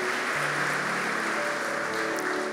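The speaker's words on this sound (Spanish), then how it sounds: "denle un aplauso al pueblo hebreo" A church congregation applauds in a steady, dense wash of many hands clapping, sustained and even for a couple of seconds in a reverberant hall with no talking over it.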